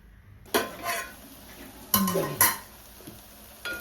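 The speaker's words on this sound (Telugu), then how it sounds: "ఇంక ఇప్పుడు పెట్టి మధ్యలో మధ్యలో కలుపుతా చక్కగా ఉడికిద్దాం" A spoon stirs dried shrimp tomato curry in a metal pot, giving a few distinct clinks and scrapes at irregular intervals against a quiet background, with no talking.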